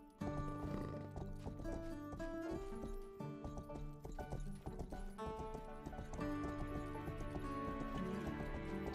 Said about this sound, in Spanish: Voy a coger caballo